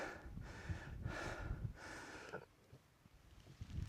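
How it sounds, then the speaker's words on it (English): Heavy, rapid puffing and panting close to the microphone after a climb up Longaford Tor on Dartmoor, Devon, several loud breaths in quick succession, then quieter breathing against light outdoor wind. "excuse all the puffing and panting"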